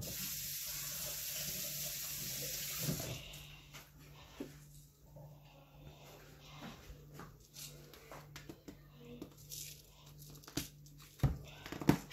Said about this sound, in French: Je vais d'abord laver les mains.